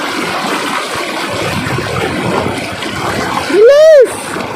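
A strong river current rushes in a steady, broad roar as someone crosses the water, and a raised voice cuts in briefly near the end.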